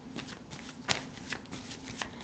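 A deck of cards being shuffled, with brisk riffling and soft slaps of cards, close and moderately loud over a steady room hum.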